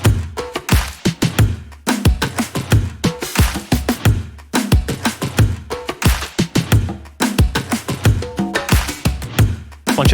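A full percussion loop built in FL Studio, with bongos, snare drums and kick drums playing together in a steady, dense groove with fills, loud and continuous throughout.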